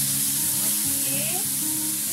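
Chicken frying in about two spoons of oil in a pan for fried vermicelli, a steady close sizzle throughout with faint stirring.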